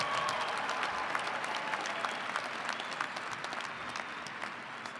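Commencement crowd applauds for master's degree candidates, a steady, dense roar of many hands clapping in a large hall, heard at a distance and fading slightly at the end.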